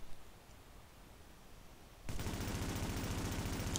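An LW M4 rifle in The Division fires a full magazine as a rapid, continuous automatic burst. It starts abruptly after about two seconds of quiet ambience and is loud and sustained to the end.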